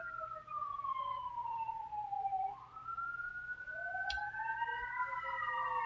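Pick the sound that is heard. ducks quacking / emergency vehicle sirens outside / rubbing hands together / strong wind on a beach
emergency vehicle sirens outside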